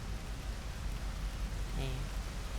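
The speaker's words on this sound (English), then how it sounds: "the rain is pretty nice too" Steady rain falls in Rain World as a constant, even hiss of moderate loudness, with a brief voice-like murmur briefly rising over it.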